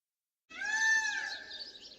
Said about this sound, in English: What you hear in the background, which is so cool about this little place, is they've got these peacocks running around